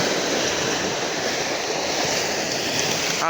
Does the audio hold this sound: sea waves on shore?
yes